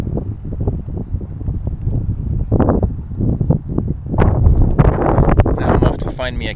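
Strong wind on a riverside along the Taehwa River in Ulsan, gusting and buffeting the microphone in loud rough bursts, with someone talking throughout.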